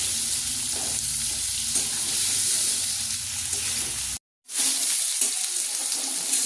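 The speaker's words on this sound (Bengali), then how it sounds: "লাউটা একটু ভাজা ভাজা হয়ে গেছে" Bottle gourd sizzles as it fries in a pan, with busy stirring scrapes over loud steady crackling and a brief silent gap near the end.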